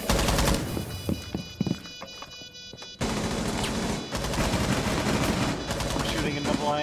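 Rapid automatic gunfire rattles in Rainbow Six Siege, dense bursts of shots close and loud, pausing briefly before another long sustained volley, with voices talking underneath.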